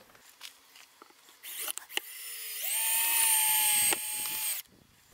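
A cordless drill drives a screw into a wooden beehive cover, giving one short rising whine that holds steady for a couple of seconds and then stops, preceded by light handling taps.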